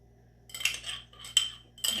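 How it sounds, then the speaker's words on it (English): A lip balm oil blend is scooped into a double boiler in three short bursts of scraping, clinking utensil contact against metal. The sounds are close and fairly quiet, with pauses between them and no talk. "I'm going to take my oil blend. I'm going to scoop that,"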